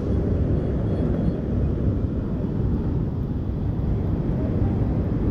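Mountain river at Rambara on the Kedarnath trek, a steady, loud broadband rush of flowing water that holds even and continuous throughout with no pauses.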